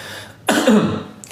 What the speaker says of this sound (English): I have to clear my throat for this one.